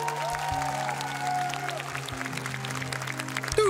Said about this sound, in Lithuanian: Galim šitom nuostabiom šokėjom irgi aplodismentų daug padovanoti